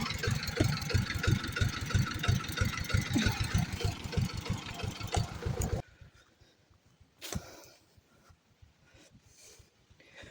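A tractor engine idles in a forest with a loud, rapid knocking chug, then drops to a quieter steady putter, with a brief louder surge midway.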